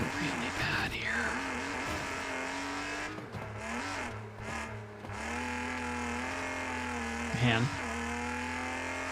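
Car engines roar in the video game Wreckfest, a sustained revving drone with shifting pitch and gear changes, steady and fairly loud, while someone talks briefly over it.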